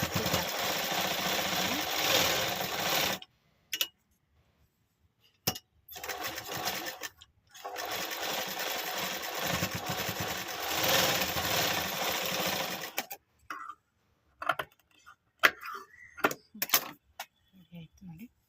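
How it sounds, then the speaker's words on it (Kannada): Sewing machine stitching a folded frill dori design in tailoring work, running in two long loud bursts separated by a pause, then stopping into scattered handling clicks and short noises. "ಹೀಗೆ ತಿರುಗಿಸ್ಕೊಂಡಾದ್ಮೇಲೆ ಇಲ್ಲಿ ಸ್ಟಿಚ್ ಮಾಡ್ಕೋಬೇಕಂತಿದ್ದೀವಿ"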